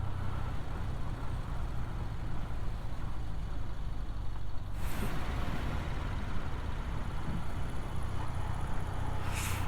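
BMW R60/6 touring motorcycle cruising in top gear on the road, a steady, continuous engine drone mixed with rushing wind noise, with no talking.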